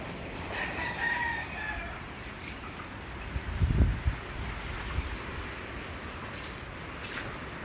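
A rooster crows once at moderate distance over steady typhoon wind noise, with faint chicken calls earlier and a brief low thump.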